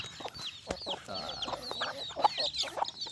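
Several chickens cluck and chatter close by, with a rooster among them, a busy overlapping flock sound with occasional sharper calls.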